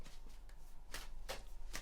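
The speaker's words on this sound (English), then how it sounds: "just shuffle these cards" Tarot cards being shuffled by hand, a few soft riffling swishes close by at uneven intervals against a quiet hum, with no voice.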